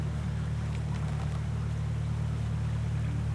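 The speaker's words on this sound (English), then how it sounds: "I ain't noticed the tone of that engine alter much" A barge engine on a river drones steadily and close by, a constant low rumble with no change in tone throughout.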